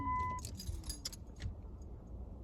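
Keys jangle in a short metallic rattle, loudest at the start and then fading into light scattered clinks over a low background hum inside a van.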